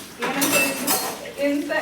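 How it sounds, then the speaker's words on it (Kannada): Pots and dishes clink and clatter during hand washing, in short bursts of metallic knocks close by, with a person talking over them. "ಈಗ ನಾನು ಪಾತ್ರೆಗಳನ್ನ ವಾಶ್ ಮಾಡಿ"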